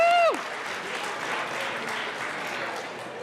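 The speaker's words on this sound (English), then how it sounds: "Would you all please join me in giving a round of applause to KIPP Northeast Leadership Academy?" Applause fills a legislative chamber during a Colorado House session, a short tone or chime opening before steady, moderately loud clapping from many people that carries on evenly throughout.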